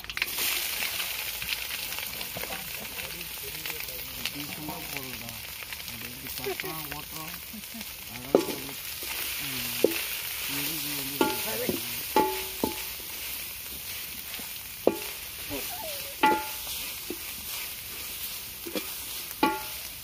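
Green chilli, coconut, onion and garlic are stirred in a frying pan in a village kitchen, giving a soft sizzle with intermittent scraping and clinking strokes, while a person talks over it.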